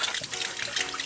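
Cold tap water runs steadily and trickles while a muddy football is washed clean at the TSV 1860 München grounds. The splashing is close and continuous with no voices.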